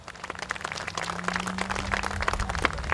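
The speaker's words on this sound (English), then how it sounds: "Let's give him a big round of applause." Audience clapping at a school kindergarten and sixth-grade promotional ceremony, a steady, dense patter of many hands that builds slightly over a few seconds, with a faint low hum underneath.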